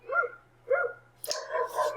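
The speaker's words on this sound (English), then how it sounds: "I apologize about my neighbor's dogs barking" Neighbouring dogs bark three times, two evenly spaced woofs and then a sharper, harsher bark, heard at a moderate distance over a low steady hum.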